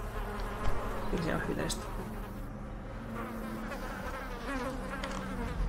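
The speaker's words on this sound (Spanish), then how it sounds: "qué mal rollo da el poquito sonido de las moscas" Flies buzz steadily and quietly in the Darkest Dungeon video game, a thin continuous drone under someone speaking Spanish.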